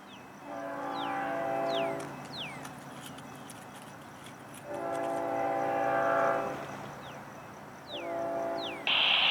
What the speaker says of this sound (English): On the head end of 101 today would be a Grupo painted GEVO, and a Champion GEVO trailing behind one of FEC's LNG tenders